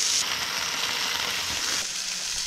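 An egg frying in a hole cut in a hamburger patty, a steady close sizzle that stays even and continuous with no voices.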